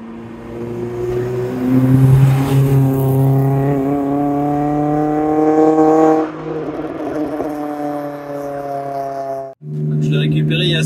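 Modified Honda Civic engine with about 465,000 km on it, revving steadily near the microphone, the pitch climbing gradually before it drops off, cuts briefly and then returns.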